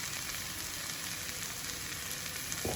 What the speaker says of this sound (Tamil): இப்போ இதில் வந்து நம்ம இந்த கட் பண்ணி வச்சுருக்கிற வெண்டைக்காய் வந்து ஆட் பண்ணிடலாம்